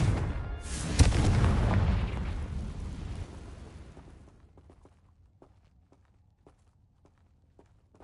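The Confringo blasting curse explodes in Hogwarts Legacy, a loud booming blast that swells and rumbles for a few seconds, then fades into quiet footsteps.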